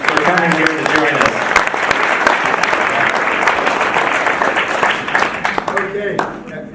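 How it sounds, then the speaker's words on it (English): An audience applauds a keynote speaker at a conference, a loud, sustained wash of clapping from many hands that fades slightly near the end, with a few voices mixed in. "let's give Louis Perdue a big round of applause for coming here to join us"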